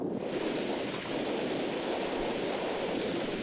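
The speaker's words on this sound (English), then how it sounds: "The storm has just picked up" Thunderstorm rain in a horror video game pours steadily as a dense, even hiss that stays loud and unbroken throughout, with no voices over it.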